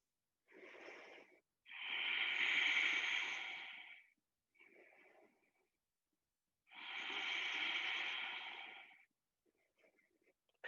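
Slow, deep breaths during a yoga pose: two long, airy, wheezy exhales, each preceded by shorter intakes, close and quiet with silence in between.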